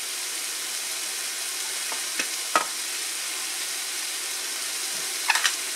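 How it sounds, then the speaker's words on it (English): Mushrooms cooking in a pot, seasoned with salt, with a soft steady sizzle and a few brief clinks or stirring scrapes, near and moderately quiet with no talking. "So we're going to allow the mushroom to cook."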